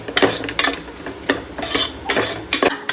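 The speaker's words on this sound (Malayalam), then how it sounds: "ആവശ്യത്തിന് ഇഞ്ചിയും വെളുത്തുള്ളിയും പേസ്റ്റ് അത് നന്നായിട്ട് ഇളക്കി കൊടുക്കുക" Ginger-garlic paste and onions are stirred in a pan, with a utensil scraping and clinking against the metal in steady repeated strokes over a faint sizzle. The sound is close and fairly loud, with no talking.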